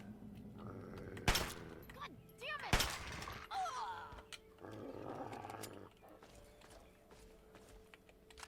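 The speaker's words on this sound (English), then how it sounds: "I'm going to be rude and just take pot shots at you instead." Gunfire in Fallout 3, a few sharp broadband shots standing out amid creature growls and ambient game sound in the Capital Wasteland, fairly loud against a moderate background.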